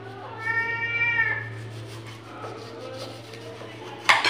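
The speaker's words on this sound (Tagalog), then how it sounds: "Alam niyo yung pusa na to, as in super love talaga ako nito siguro." A cat meows in a drawn-out, wavering cry near the start, followed by quieter rustling and a sharp clink near the end, over a low steady hum in a provincial home.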